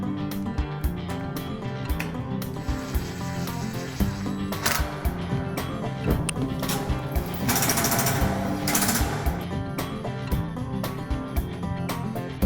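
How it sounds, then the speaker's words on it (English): A power drill drives self-tapping screws through red covers into a steel frame during attic lift installation, giving sharp repeated bursts and a sustained whirring grind up close, with no talk. "using a self-tapping screw, attach the red covers to the steel frame"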